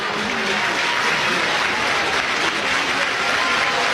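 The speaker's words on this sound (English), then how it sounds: "Crowd comes alive." Dense, steady applause and cheering from the crowd at a Florida State versus Oklahoma college softball super regional game, a continuous wash of clapping and voices filling the whole span without letup.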